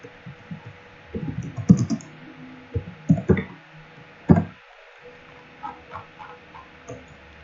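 Close, quiet typing on a computer keyboard, a few clusters of light key clicks and taps with pauses between them, with no voice.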